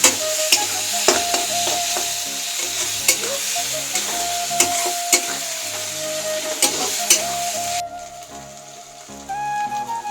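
Onions with turmeric and chilli powder frying in a pan, a bright continuous sizzle broken by repeated sharp scrapes and knocks of stirring, close and loud, ending abruptly.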